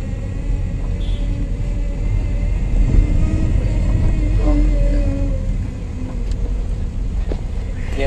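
A car creeps in second gear through heavy market traffic, its engine a steady low rumble close by, surrounded by faint street noise and occasional distant sounds from the busy market.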